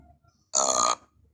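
A cartoon baby lets out a single loud, drawn-out burp lasting under half a second, rising sharply out of near silence and cutting off just as abruptly.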